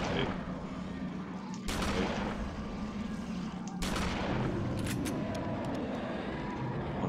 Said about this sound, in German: jetzt kann ich den Finalschlag nur mit der Pistole machen, also nur mit der Fernkampfwaffe machen